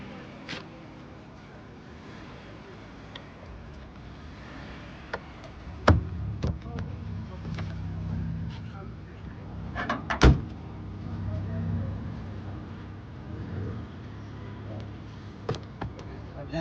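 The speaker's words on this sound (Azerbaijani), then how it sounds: "Bu isə bagaj səsi" A 1997 Mercedes with a 1.8 engine, parked at a car market, has its trunk lid handled, giving two solid thuds a few seconds apart over faint background noise, with a few lighter clicks near the end.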